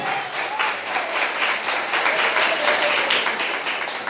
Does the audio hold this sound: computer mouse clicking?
no